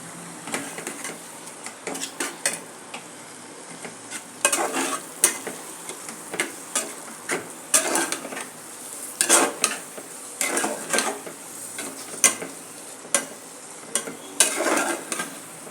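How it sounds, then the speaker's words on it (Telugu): Chicken pieces frying in masala in a pan for a chicken curry, a soft sizzle broken by frequent loud metallic scrapes and clinks of a spoon stirring against the pan. "ఇప్పుడు చికెన్ వేసేస్తున్నాను."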